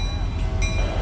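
A Norfolk Southern freight train rolls through Tarentum, Pennsylvania, with a steady heavy rumble of wagons close by and a thin high wheel squeal running over it.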